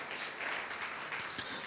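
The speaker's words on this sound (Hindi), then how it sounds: "ताली बजाकर हम उस यीशु मसीह के धन्यवाद कर सकते हैं" A worship congregation claps in praise at a Sunday church service, producing a dense, continuous crowd patter that sounds moderately close and holds steady throughout, with no voices standing out.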